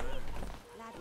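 Horse hooves clip-clop in The Witcher 3, a brief burst of quick hoofbeats that fades out within about a second under faint game ambience.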